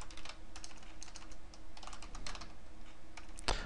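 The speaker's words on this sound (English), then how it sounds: "I cannot type today, wow." Close, quick typing on a computer keyboard, clusters of crisp key clicks in an uneven rhythm, ending with a heavier thump of a key or desk near the end.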